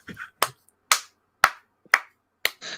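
A single person claps alone in a quiet room, giving five sharp, evenly spaced claps at roughly half-second intervals, close and loud, with faint speech at the start and end.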